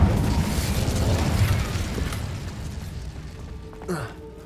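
Incendio fire spell cast in Hogwarts Legacy, a loud whooshing, rumbling burst of flame that fades gradually, ending with a brief sparkling chime.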